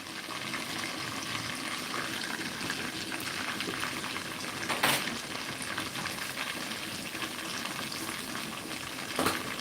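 A pot of brown stew chicken bubbles on the stove with a steady close hiss and gentle boiling texture, occasional louder pops breaking through the constant simmer.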